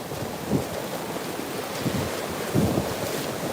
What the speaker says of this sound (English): I'm trying to stay in the water the whole time I walk, if you can hear the splashing